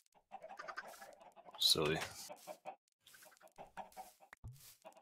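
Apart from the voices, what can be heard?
chickens clucking in Minecraft Bedrock video game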